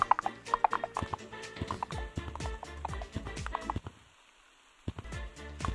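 Hoofbeats from the horse item in the video game Gorilla Tag: a quick, steady clip-clop of hooves, loud and close, with a short pause near the end before the clopping resumes.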